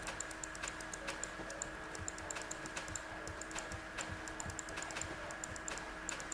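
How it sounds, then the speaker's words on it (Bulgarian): A laptop user clicks a computer mouse in rapid, irregular bursts, crisp and close, over a faint steady hum, with no talking. "Ако ме се чува мишката как кликам"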